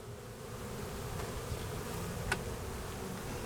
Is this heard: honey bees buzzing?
yes